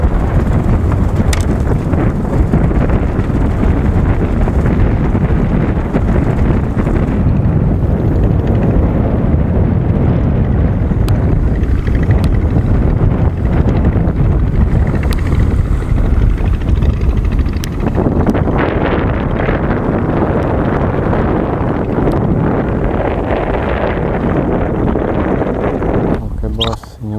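Strong wind at sea on a fishing trip to a fishing platform, roaring steadily into the microphone as loud, continuous buffeting that eases slightly in the second half.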